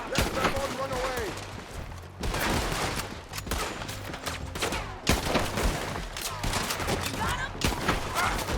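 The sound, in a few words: gunfire in the video game Red Dead Redemption 2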